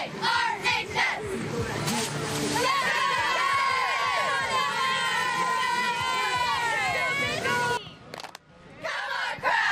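A high school football crowd at the Ashley Ridge vs. Fort Dorchester rivalry game in South Carolina yells the chant A-R-H-S, a dense, sustained roar of shouting and cheering voices that drops briefly near the end.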